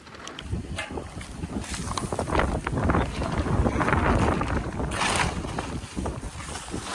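A strong wind blows outdoors in a village, roaring steadily against the microphone as a broad rumbling hiss that swells through the middle, with no one speaking.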